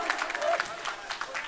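Guests clap at a sangeet evening, a short patter of applause mixed in with a nearby voice talking.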